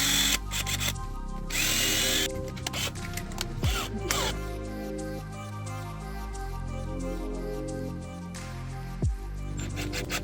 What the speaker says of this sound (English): don't get heavy-handed with the cordless drill